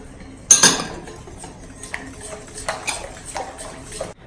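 Pancake batter with oil just added is stirred in a bowl: a sharp utensil clink against the dish opens, then a run of soft scraping and tapping strokes, fairly close, with no talk.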